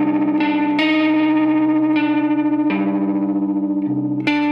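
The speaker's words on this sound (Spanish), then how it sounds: "la distorsión también está muy baja. La voy a exagerar un poco para que vean la diferencia" An electric guitar runs through a distortion pedal pushed to an exaggerated setting, giving thick, buzzing chords that change every second or so and ring loud and sustained, with a short pick scrape at the end.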